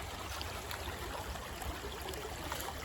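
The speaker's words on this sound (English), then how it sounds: "To channel the water down to the sluice so we can get more flow out of it" Water rushes steadily down a channel into a gold-panning sluice, a dense, continuous outdoor wash with no pauses and no voices.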